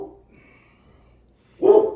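A dog barks outdoors in a single short, fairly loud burst near the end, after a quiet stretch that opens with faint low murmuring.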